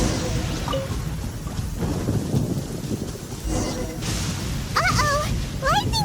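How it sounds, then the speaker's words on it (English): A thunderstorm in the video game Genshin Impact brings steady rain hiss with a low thunder rumble swelling underneath, along with a few brief bright tonal game sound effects near the end, and no talking. "Lightning storm! Just our luck."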